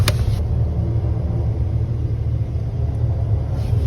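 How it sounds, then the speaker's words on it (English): A car drives fast near a campsite, its low engine rumble heavy and continuous for several seconds, close and loud, with no voices. "Now I hear really fast driving."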